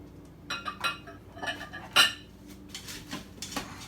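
Chopped onion is stirred in sausage drippings inside an Instant Pot, with a metal utensil clinking and scraping against the pot in short irregular bursts, close and moderately loud, no talking.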